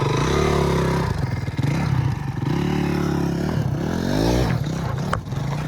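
A 1986 Yamaha BW200 big-wheel motorcycle, running rough and in need of a carburetor cleaning, is ridden. Its engine drones steadily and loudly throughout, with uneven revs and some rattling clatter.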